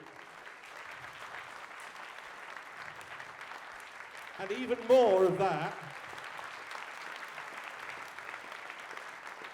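An audience at the Shrewsbury Folk Festival claps with their hands to imitate heavy ducks' feet slapping on wet concrete, a steady patter under a talking host that swells louder and denser for a couple of seconds midway.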